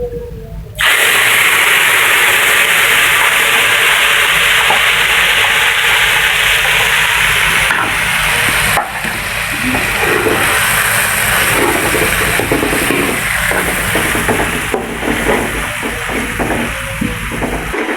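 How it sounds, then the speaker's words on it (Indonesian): Green chilies fry in a hot pan with a continuous loud sizzle and crackle, joined by scraping and stirring knocks in the second half; nobody speaks. "Sekarang kita siap untuk menggoreng cabai hijaunya"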